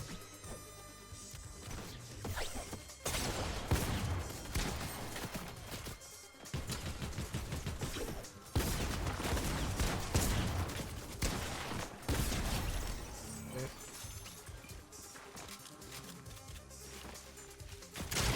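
Dense bursts of gunfire and crashing impacts in a Fortnite Reload solo match, loud and nearly continuous for the whole stretch with game music and effects layered underneath.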